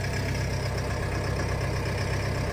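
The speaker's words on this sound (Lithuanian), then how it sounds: "Dirba variklis. Girdisi plaukioja apsukus, traktorius." A car engine idles roughly with wavering revs, a low steady throbbing rumble heard close and continuous, with no talk over it.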